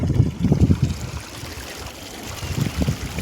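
Water flowing through the Baleshwar dam, a rushing, gurgling stream heard close by in uneven surges, louder at the start and again near the end.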